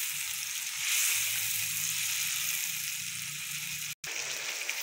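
Spicy chicken masala is fried and stirred in a pan over medium heat, giving a steady, close sizzle and crackle with soft stirring scrapes and a brief break near the end.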